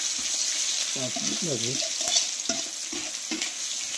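Onions fry in a pan with a constant close sizzle and occasional stirring scrapes, while a person speaks briefly over the cooking.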